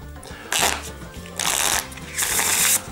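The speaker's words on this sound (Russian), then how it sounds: "рифл шафл с ними делать — это просто превосходно" Plastic KISS playing cards are riffle shuffled, three quick bursts of crisp rippling flutter, close and loud, with quieter handling between them.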